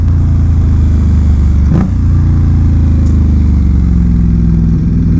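An Indian Scout motorcycle rides along a road, its engine a loud, steady low rumble with wind noise, holding an even pace with a slight dip in the middle and no talk.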